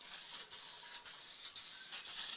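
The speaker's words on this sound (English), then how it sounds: "as soon as I spray this polyurethane on" Quiet hissing bursts of an aerosol can spraying polyurethane onto wood, repeating in short pulses about every half second, a soft airy spray sound.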